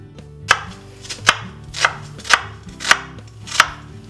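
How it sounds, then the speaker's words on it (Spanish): A knife chops an onion into rough pieces on a board, six evenly spaced, loud, close thuds with a faint hum between them and no speech. "Picamos la cebolla"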